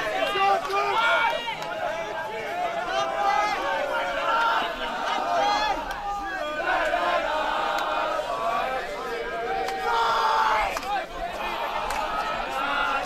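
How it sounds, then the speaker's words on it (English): Schoolboy spectators cheer and shout continuously at a school 1st XI hockey match between Rondebosch and SACS, a loud, dense crowd roar with overlapping voices that swells and dips throughout. "The crowd's getting into it"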